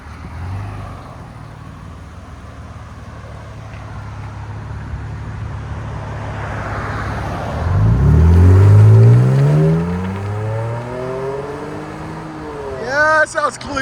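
A 2023 Nissan Frontier pickup with a 3.8L V6 and BIGBOZ exhaust with equal-length headers and a carbon fiber tip, idling low before a sharp rev that rises and falls around the middle, with voices talking throughout.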